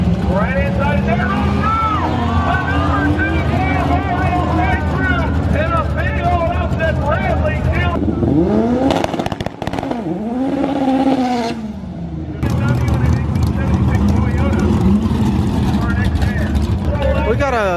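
BMW SUV drag racing down a track at a crowded event, a loud engine roaring and revving through rising gear shifts as it passes, with voices throughout and crowd noise.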